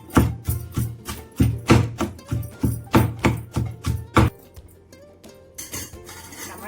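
Onions are pounded in a stone mortar for Andhra-style chutney, with about fifteen rapid, even thuds that stop abruptly, followed by quieter handling noise.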